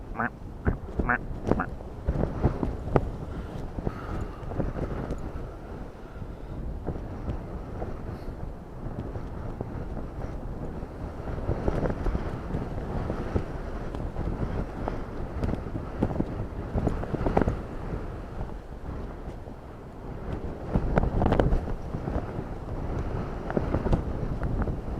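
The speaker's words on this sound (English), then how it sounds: "Surface wind 280 degrees, 23 knots, max 38, minimum 16." Strong gusting wind during Storm Floris at Dublin Airport, roaring and buffeting steadily across the whole stretch with rising and falling gusts, under faint background noise and occasional voices.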